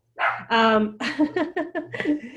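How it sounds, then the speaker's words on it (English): A pet dog barks and yips in a quick burst of several calls, loud and close to the microphone, during an online housing council meeting. "no one wants to hear my dog"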